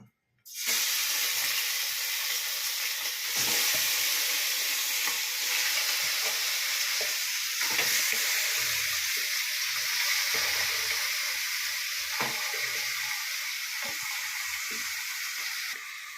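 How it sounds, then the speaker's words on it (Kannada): Loud, steady sizzling of country chicken frying in hot oil for curry, with a few light clicks of stirring throughout. "ಎಣ್ಣೆ ಬಿಸಿ ಹಾಕಿದೆ ಈಗ ನಾವು ಚಿಕನ್ ಹಾಕ್ಕೊಳ್ಳೋಣ"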